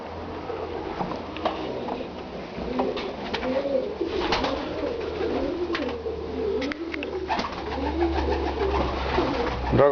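English tippler pigeons cooing steadily inside a loft of breeding boxes, several birds overlapping in soft repeated coos with light rustling, close and continuous throughout.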